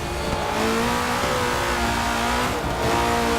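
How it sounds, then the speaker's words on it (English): Car in Forza 6 with its rear tires spinning out of control on track, a dense roaring engine at high revs with a smeared, squealing whine, loud and continuous throughout. "That's my rear tires basically spinning out of control."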